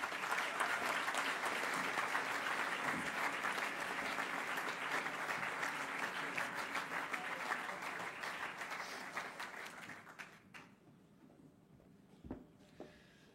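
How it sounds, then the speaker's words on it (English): Warm applause from an audience for a student at an IE Business School ceremony, dense clapping that holds steady for about ten seconds and then thins to a few scattered claps and quiet. "Ladies and gentlemen, a warm applause for Paloma Sabater Palma."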